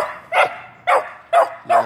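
An American Staffordshire Terrier, a strong male, barks four times in a steady rhythm, each bark short, loud and close, with no talking.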